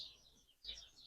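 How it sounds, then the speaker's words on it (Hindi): Small birds chirp faintly in a tree on a Madina street at night, with a few soft high tweets rising briefly over quiet background hum. "बहुत प्यारी प्यारी माशाल्लाह चिड़ियों की आवाज़ें आ रही हैं"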